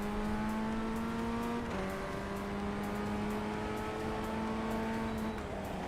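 A race car engine from the Assetto Corsa racing game at a 24-hour Le Mans event drones loudly and steadily, a buzzy sustained tone that shifts pitch slightly as gears change, with no talk.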